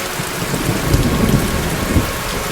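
Heavy rain pours steadily and loudly with a low rumbling undertone, close and continuous with no voices.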